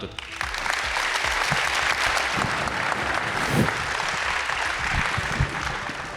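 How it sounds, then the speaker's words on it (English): An audience gives a sustained round of applause for a panel at the close of a plenary session on space infrastructure from low Earth orbit to the lunar surface, loud, dense clapping throughout. "Please join me in a round of applause for our panel."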